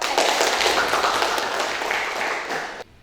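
Students in a classroom clap together as a short burst of dense, lively applause that holds steady, then cuts off abruptly near the end.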